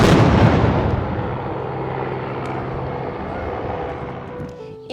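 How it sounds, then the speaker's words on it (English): A heavy boom from the midday cannon shot at the Peter and Paul Fortress in St. Petersburg opens, then a long rumbling roar rolls on and slowly fades, with faint sounds stirring near the end. "we are going to hear the midday shot from the cannon"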